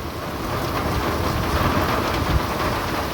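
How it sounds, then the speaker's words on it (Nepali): Rain pours steadily with hail falling in a storm, a dense, loud hiss of drops on surfaces with a low rumble of thunder underneath, no voices. "ल असिना पानी हुँदैछ त अहिले त"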